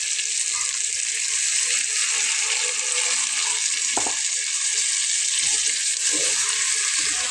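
Chicken kosha sizzles steadily in a wok as broth is added to it, giving a loud, continuous frying hiss with a few brief stirring clatters and no talk.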